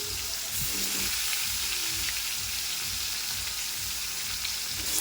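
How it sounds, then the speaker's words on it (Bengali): Fish frying in oil one piece after another gives a continuous, fairly quiet crackling sizzle with fine popping throughout, heard alone without talk. "এই যে এক এক করে সব মাছ আমি এখন ভেজে ফেলছি"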